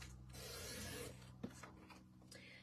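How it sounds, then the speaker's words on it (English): Cardstock is cut into pieces for a handmade gift card holder, giving a faint, close rasping scrape with a small click partway through. "I'm going to cut 3 pieces of cardstock that are 4 1/8 inch"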